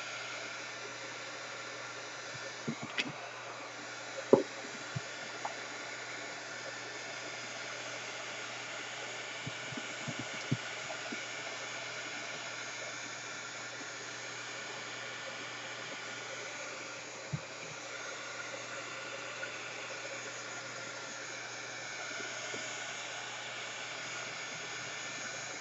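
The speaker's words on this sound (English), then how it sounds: "I'm going to run the heat gun for just a minute just to secure these glued down edges." A heat gun blows a constant, faint airy whoosh over glued paper edges for a crafting journal pocket, with a few small taps and clicks scattered through.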